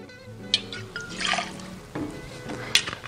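Reposado tequila, El Jimador brand, poured into a measuring jigger for a 60 ml cocktail serving, giving a soft brief trickle of liquid with a few light clinks, close by and quiet with no talking.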